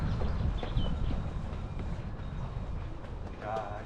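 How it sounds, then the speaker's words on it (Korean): A train rumbles past with a low, steady roar and faint rattling near Tiger Leaping Gorge, China, while voices talk nearby and a brief high squeal rises near the end. "여기 기차 가네."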